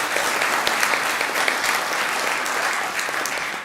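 Steady audience applause at a Women's Institutes annual general meeting, a dense, even wash of many hands clapping at moderate volume without a break.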